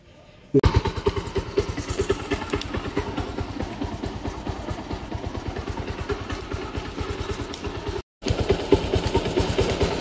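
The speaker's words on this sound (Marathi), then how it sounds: "चला, बाईक आपली कोल्ड स्टार्ट झालेली आहे" A motorcycle engine idles steadily after a cold start, its low, even pulsing beat continuing throughout with a brief dropout near the end, close and fairly loud, with no talking.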